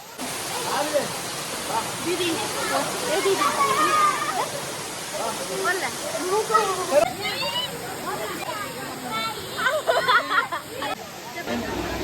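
Ermayi waterfall, running lower than usual, rushes steadily in the background while several people talk over it throughout.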